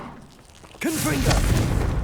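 A Confringo blasting spell explodes in Hogwarts Legacy, a sudden booming burst that opens onto a sustained roar of combat effects after a quieter lead-in.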